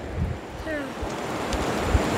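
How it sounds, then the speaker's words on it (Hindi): A hill-country river rushing fast and swollen after heavy rain, giving a steady, loud broadband roar of water through the whole stretch, with faint wind and a hint of voices in the background. "तो नदी इतनी तेज क्यों बह रही है?"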